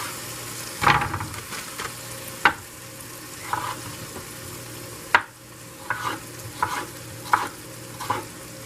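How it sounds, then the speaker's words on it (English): Meat and onions frying in a pan, stirred in a series of scraping strokes at irregular intervals over a steady low sizzle, close and moderately loud with no talk. "Make sure you stir your meat."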